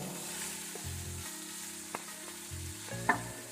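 Onions going into hot oil for an idli-dosa chutney, with a steady crackling fry in a pan under a low hum, and a brief clattering clink near the end.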